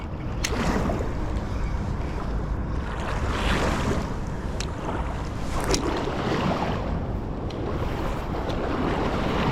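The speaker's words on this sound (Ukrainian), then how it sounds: "зараз нас трошки накриє хвилкою" Open water of the Dnipro lapping and washing against a Kyiv river embankment, a steady broadband wash with gusty wind buffeting the microphone and a few sharper splashes, loud and continuous throughout.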